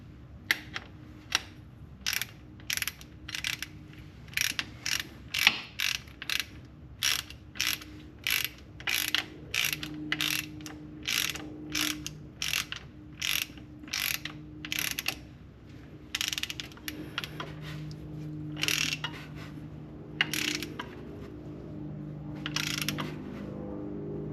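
A hand ratchet tightens a bolt on the front differential of a Nissan Skyline, giving a long series of quick clicking strokes in regular bursts with short pauses, close and clear over a faint background hum.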